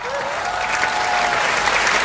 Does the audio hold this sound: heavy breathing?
no